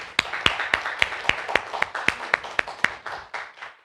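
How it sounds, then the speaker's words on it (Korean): A church congregation claps in unison, about a dozen sharp, evenly spaced claps in a steady beat, close and distinct, softening into scattered clapping at the end. "박수 한번 쳐드리세요"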